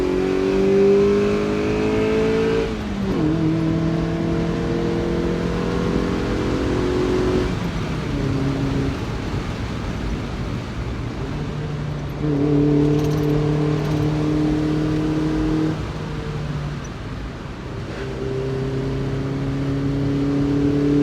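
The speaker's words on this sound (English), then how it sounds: "That's exactly what you want out of a twin cam. You want it to sing a bit, and a bit of induction noise." Mazda MX5 twin cam engine fitted with an aftermarket air filter, revving repeatedly with strong induction noise, each rev rising and falling in clear, loud bursts separated by brief gear changes.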